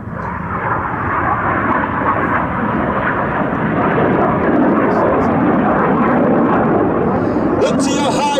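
RAF Red Arrows jets flying the Synchro Heart display at a D-Day 80 summer air show at Duxford, a loud continuous jet roar throughout, with a commentator's voice over it.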